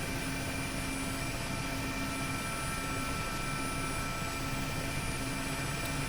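A Mi-8MTV2 helicopter in the DCS flight simulator spools up for takeoff, a steady, loud, droning rotor and turbine roar with a constant whine running throughout, no talk over it.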